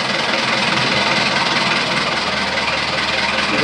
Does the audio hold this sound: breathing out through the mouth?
no